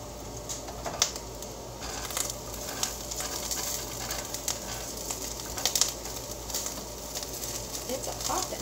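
Food cooking with rice in a covered pot, popping and sizzling in a steady patter of small crackles and clicks, with a few louder pops at moderate volume.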